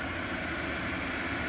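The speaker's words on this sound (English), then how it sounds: "There's the power vent." A steady, droning roar from a power vent exhaust fan hums without change, loud and close, running continuously.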